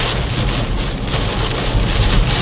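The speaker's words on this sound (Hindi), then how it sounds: "मतलब ये तो तूफान के बराबर की बारिश हो रही है," A heavy downpour roars loud and unbroken, a thick wash of drumming rain heard nearby with nothing else over it.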